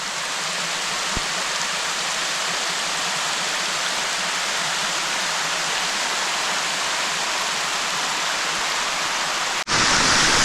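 Waterfalls on Harpers Creek in the Wilson Creek Wilderness roar in a dense, constant broadband rush, loud and near, with a brief knock early on and a sudden jump in level just before the end.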